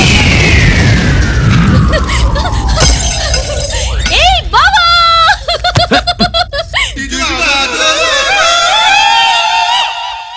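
A comic film sound effect for puranalu sweets bursting like bombs in a Telugu movie: a descending whistle leads into booms and crackling bursts, mixed with chuckling and voices in a loud, busy soundtrack.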